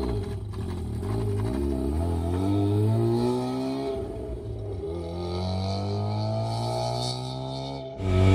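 Mazda RX8 drift car fitted with an RX7 rotary engine drives slowly, its engine droning steadily with gentle rises and dips in pitch, close by and with no talk.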